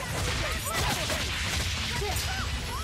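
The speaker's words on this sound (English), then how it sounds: "I messed up my explosion attack" Explosion attack in the video game Tales of Berseria sounds as a dense, continuous roar of crackling blasts and whooshing magic effects, with swooping tones layered over heavy battle noise throughout.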